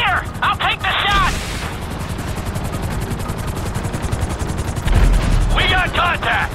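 Gunfire in the open-world game GTA 5 during a chase by a wind farm and train, rapid bursts of automatic shots crackling over a loud, constant rumble of engine or rotor noise.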